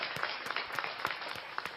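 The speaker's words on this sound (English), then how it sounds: "Let me just clap it up for the grill master" A crowd at a community gathering claps for the grill master, a steady rhythmic run of about seven sharp claps at a brisk, even pace, fairly close and without talking.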